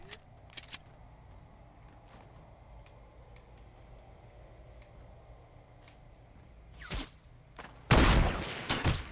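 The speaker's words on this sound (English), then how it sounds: "Bro, I'm getting shot at from somewhere that's not from in front of us." Gunfire in a squad shooter video game: faint sporadic distant shots at first, then a louder burst and a sharp close volley near the end over quiet background.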